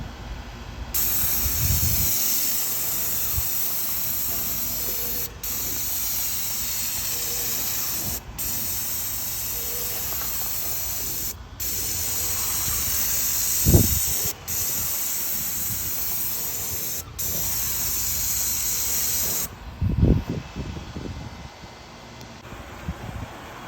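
A sprayer applies clear coat stain to an outdoor wooden bar structure, a steady close hiss running almost continuously in long bursts broken by brief pauses, with a few faint knocks.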